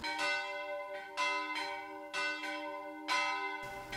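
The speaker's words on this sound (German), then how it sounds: "Zum Abschluss eine Glockensinfonie." Cologne Cathedral's large bronze bell, the Decker Pitter, rings out in repeated deep, resonant strikes, each swelling and humming with long overtones, about five strokes with no voices.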